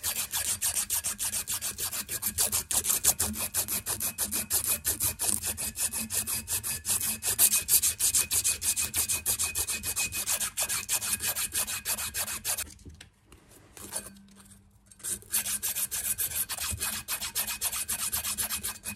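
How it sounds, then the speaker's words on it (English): Rapid back-and-forth abrasive rubbing of sandpaper on a steel fuel line, sanding off excess solder, loud and close, continuing steadily with a brief pause near the end before resuming. "So after running it through the wire wheel and sanding it"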